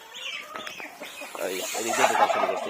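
Chickens cluck and squawk close by, several birds calling over one another in a busy, rising chorus.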